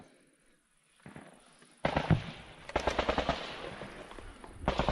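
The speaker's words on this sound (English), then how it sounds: "And we hear some machine gun fire out there" Machine gun bursts crack out in a war zone in Ukraine, with a lone shot early on followed by rapid, sharp volleys at moderate distance against a quiet background.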